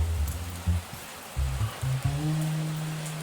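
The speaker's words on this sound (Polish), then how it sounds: "No pada." Rain falling outdoors, a steady hiss of drops on surfaces under intermittent low rumbling tones, with no speech.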